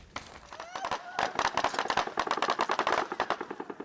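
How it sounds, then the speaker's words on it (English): Rapid machine-gun fire from an Israeli tank aimed at journalists, a dense run of loud, fast bursts that grows steadily, with a voice crying out near the start. "the journalists were actually being fired upon with a machine gun"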